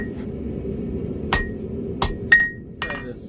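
Hammer striking hot metal while forging decorative leaves on an anvil, four sharp ringing blows spaced irregularly over a low steady background hum, close and fairly loud.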